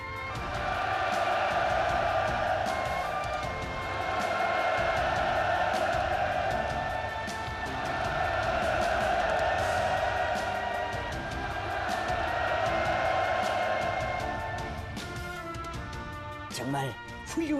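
A large assembly at a party congress ceremony for a 600mm large-calibre multiple rocket launcher erupts in sustained enthusiastic applause and cheering, a dense roar of clapping and voices swelling in waves for many seconds before tapering off.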